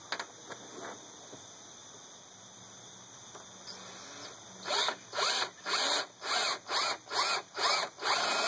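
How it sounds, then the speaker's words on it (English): A power drill bores a hole about 3/8 inch deep into a small bearing block for a bow drill, first faint scraping, then eight loud rhythmic whining bursts of the bit cutting, close up with no talk. "Okay, so I'll drill my hole a little bit to the right of that line"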